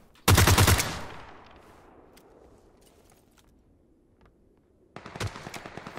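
Gunfire in PUBG on Xbox One X, a loud close burst of rapid automatic shots that echoes away, then quiet, then another rapid burst of shots.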